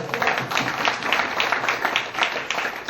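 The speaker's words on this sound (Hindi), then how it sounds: "इनके लिए जोरदार तालियां।" Loud audience applause fills a seminar hall, a dense, steady wash of many hands clapping together throughout.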